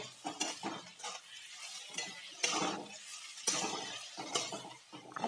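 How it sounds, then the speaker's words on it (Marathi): Ground chili and garlic being sautéed in a pan for vada pav, with soft sizzling and repeated scraping, clinking strokes of a utensil stirring against the pan, close and fairly quiet. "आता आपण यामध्ये मिरची आणि लसूण दळून घेतलं होतं ते टाकणार आहोत. छान असं आपण ते परतून घेऊया."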